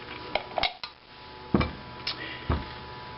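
Pinto beans are served from a cooking pot with a handful of sharp metal clinks and scrapes of a serving spoon against the pot and dishes, spaced irregularly and close up, with no talking.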